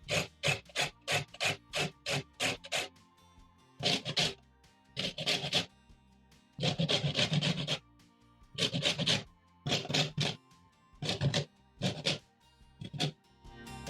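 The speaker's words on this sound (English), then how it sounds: "grate the green part of the lemon, not the white" Lemon zest grated on a hand grater for cookie dough, a quick run of rhythmic rasping strokes followed by slower, longer grating bursts, close and clear with no talking.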